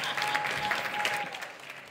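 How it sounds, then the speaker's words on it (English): An audience at a conference applauds to welcome a keynote speaker, steady dense clapping from a large crowd with no talk over it. "Please help me welcome to the stage with a huge round of applause"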